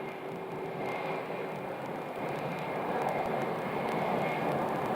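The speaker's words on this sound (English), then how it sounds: "We got a little Beechcraft King Air right there." A small Beechcraft King Air turboprop at Phoenix Sky Harbor gives off a continuous, moderately loud engine drone with a faint whine, unbroken and alone over a few seconds.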